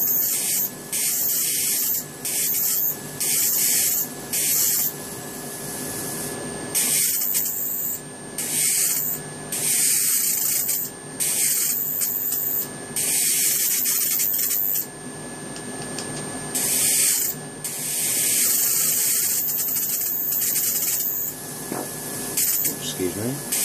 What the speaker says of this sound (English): The rattling you can hear is my ferrites on the wires.